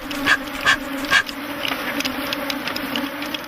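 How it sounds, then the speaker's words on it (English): Angry African honey bees buzzing around opened hives during beekeeping work, a steady droning swarm with three sharp bursts near the start, loud and close over a continuous hum. "yet more and more bees become angry"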